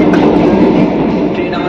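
Vande Bharat Express train running between Cuttack and Bhubaneswar, a loud steady rumble with rail clatter heard from inside the carriage.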